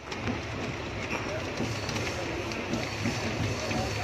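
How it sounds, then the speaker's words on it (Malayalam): A steady rumbling roar heard aboard a moving train approaching Ernakulam, continuous and fairly loud throughout with no clear voices. "ഇപ്പോൾ ട്രെയിൻ എറണാകുളത്തേക്ക് അടുത്തുകൊണ്ടിരിക്കുകയാണ്"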